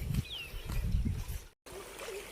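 A stream of water flows steadily and close by, a continuous low rushing and trickling with a brief cut in the middle, heard in an outdoor scenic area.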